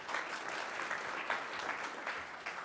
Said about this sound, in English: please, a warm round of applause for Mimoent Haddouti from PwC.